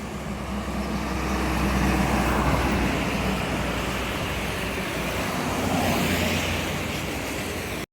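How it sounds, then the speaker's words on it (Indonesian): A heavy dump truck (tronton) on a road in Babadan, Ponorogo, gives a loud, sustained engine roar that builds and stays near before cutting off, with no talking. "Keren, dam truk tronton ini teman-teman. Wih, keren, keren bro, keren. Suara mesinnya gahar banget lur."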